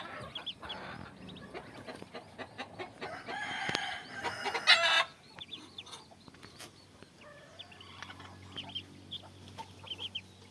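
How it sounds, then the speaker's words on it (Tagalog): Patik, a crossbreed of Muscovy duck and domestic duck, kept at a farmyard, giving repeated close clucks and calls with other fowl sounds around and a louder burst midway. "Yan ang aming patong itik."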